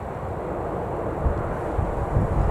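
A plane landing at Newcastle Airport, a broad low engine roar heard from a distance through steady wind noise buffeting the microphone, with no speech.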